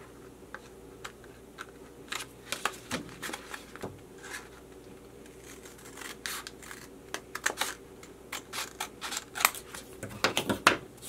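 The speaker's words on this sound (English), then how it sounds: "you just want to go ahead and cut it along this edge" Scissors snip along the edge of an origami paper strip while making a desk pencil holder, producing a series of close, crisp cuts and rustles that come in irregular bursts and grow busier toward the end.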